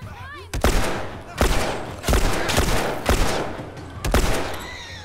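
Rapid bursts of gunfire in The Last of Us, five loud broadband volleys spaced about a second apart, each sharp onset trailing off into a rumbling decay, with no talk in between.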